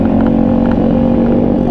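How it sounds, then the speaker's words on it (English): A TaoTao 140cc Chinese dirt bike engine drones loudly and steadily while being ridden, a close, constant buzzing roar with no talk over it. "just riding on these Chinese dirt bikes"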